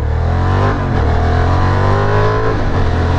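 A Honda Hornet motorcycle engine revving up loud and close, its rising, climbing pitch sustained through a short burst, with no talk.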